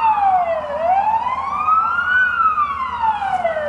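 A fire truck siren wails along a residential road, sweeping steadily down, up and down again in a loud, continuous tone over a low traffic rumble.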